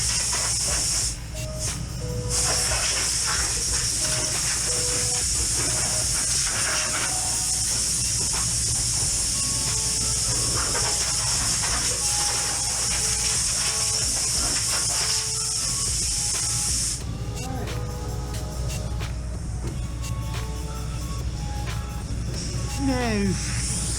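Compressed air blasts across a rusty Toyota Hilux chassis before epoxy priming, a long steady hiss with brief breaks, some clattering and faint talk underneath.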